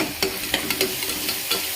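Ginger garlic paste sautéing in a pan gives a soft, steady sizzle broken by several sharp scraping stirs of a spoon against the pan, close by and without talk.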